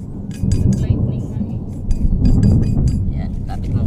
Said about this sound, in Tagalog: Lakas ng kulog, men! Lightning, man.